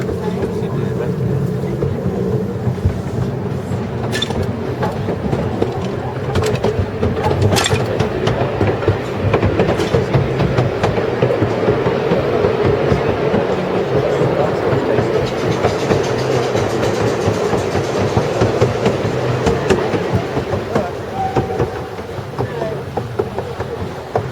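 A small garden train carries riders through the azalea-filled grounds of Exbury Gardens, its steady rumbling and rail clatter running continuously for the whole stretch, with scattered voices of passengers under the noise.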